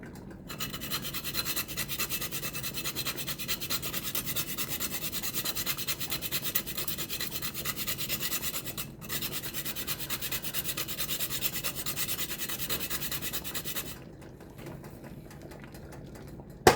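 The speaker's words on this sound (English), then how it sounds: "So I'm gonna grate some nutmeg in." Nutmeg grated by hand for corn porridge: a steady, continuous rasping scrape, close and fairly loud, running almost without break for about fourteen seconds, then quieter.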